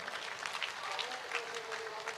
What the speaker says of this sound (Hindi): इसलिए उनके लिए भी तालियां बजाना कहूंगा।